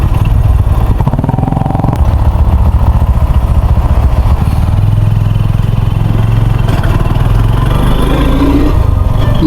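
A motorcycle rides up onto the Lalon Shah bridge in Kushtia, its engine droning loud and steady up close with wind rumble and some rattling, no voices.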